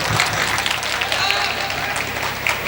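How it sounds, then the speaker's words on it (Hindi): An audience at an outdoor Indian mushaira poetry gathering claps in a broad, steady burst of applause, moderately loud with crowd noise underneath. "बजाओ ताली, बजाओ ताली।"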